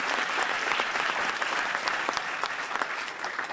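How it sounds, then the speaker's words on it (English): Audience applause at a Sacramento lecture event, a dense, even patter of many hands clapping at once, sustained and fairly close for the whole stretch without voices. "Let's give her a round of applause for her leadership."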